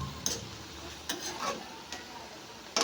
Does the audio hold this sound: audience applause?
no